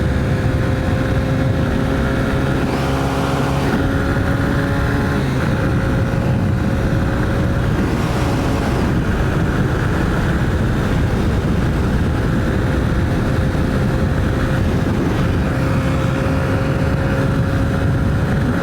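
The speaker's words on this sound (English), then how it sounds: "Let's see if the bike's feeling sprightly enough to hit 110." A Honda CB125F motorcycle accelerates hard toward 110 as a loud, continuous engine drone. Heavy wind rush and tonal engine whine hold steady throughout with no talk.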